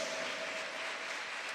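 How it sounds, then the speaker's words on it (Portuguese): Church congregation applauding during a sermon, a dense, steady wash of clapping from many hands filling the room for a brief moment, with no speech over it. "Ergam suas mãos e aplaudam ao Senhor"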